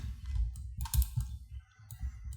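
Computer keyboard keys are pressed during modelling work in Blender, a short run of several soft, close clicks and taps in an irregular rhythm, with no talking.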